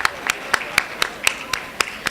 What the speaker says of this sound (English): No man, we really need to clap her.